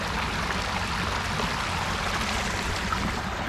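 Water runs down a backyard pond waterfall into a stream, a steady close rushing and trickling wash with no break or voices.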